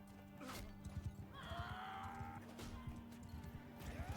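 A horse in the Mount & Blade 2 Bannerlord video game clops along with rapid hoofbeats and lets out a neigh, with faint battle noise and a distant background voice.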